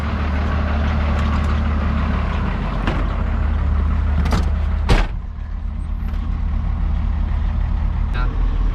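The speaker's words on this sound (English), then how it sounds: "Fires right up, purrs like a kitten." A first-generation Cummins diesel farm truck engine idles with a steady, loud low rumble, broken by a couple of sharp clunks and a brief hiss partway through.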